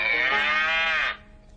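A squeezed plastic toy cow in a cartoon gives one loud, close, electronic-sounding moo that holds steady for about a second, then cuts off abruptly into near silence, with no talking over it.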